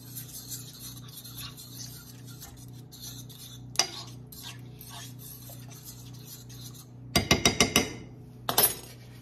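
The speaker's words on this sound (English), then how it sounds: "you just kind of stir it up" A utensil scrapes and clinks against a pot, soft rubbing at first, then a quick run of sharp metallic clinks and a final couple of knocks.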